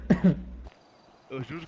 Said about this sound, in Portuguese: Tá com tosse?